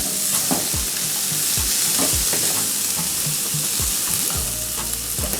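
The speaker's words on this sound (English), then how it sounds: "You want to make sure that you keep stirring because you don't want your garlic to burn." Garlic frying in a pan, stirred constantly, a close, loud sizzle with rhythmic scraping strokes of the spatula throughout.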